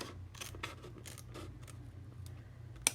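Scissors snip across the top of a clear plastic secretarial pocket for a planner, a few quiet crisp cuts spread over a hushed background, ending in one sharper close snip.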